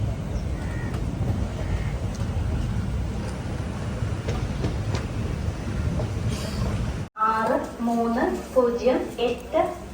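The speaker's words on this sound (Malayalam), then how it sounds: "കണ്ണൂരിൽ നിന്നും ആലപ്പുഴ വരെ പോകുന്ന കണ്ണൂർ ആലപ്പുഴ എക്സിക്യൂട്ടീവ് എക്സ്പ്രസ് 1-ാമത്തെ പ്ലാറ്റ്ഫോമിലേക്ക് എത്തിച്ചേർന്നിരിക്കുന്നു" Kannur–Alappuzha Executive Express train arriving at platform 1 of Kozhikode station, a loud steady rumble of wheels on rails with scattered clanks for about seven seconds, then cutting to a quieter platform where a voice speaks and crows caw nearby.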